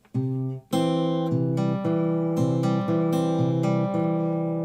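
A guitar plays a two-bar fingerstyle figure that joins two picking patterns, bright plucked notes ringing clearly in a steady, even rhythm after a brief first note, alone and close.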